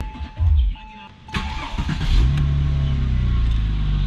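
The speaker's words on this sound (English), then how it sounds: "Then start the car after you got the steering wheel lock off." A Porsche 911 S engine cranks and catches, then settles into a steady, rumbling idle close by, with a person speaking briefly before the start.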